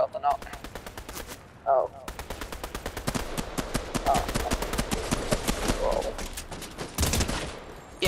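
Rapid pistol gunfire in the video game Fortnite, a dense string of loud sharp shots with brief pauses, mixed with other game effects and occasional voice sounds.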